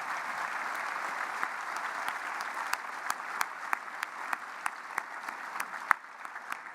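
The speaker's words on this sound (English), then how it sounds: "Let's give these folks a big round of applause for everything that they do." An audience at an Ontario economic address claps in sustained applause, with dense steady clapping that holds even and then eases near the end.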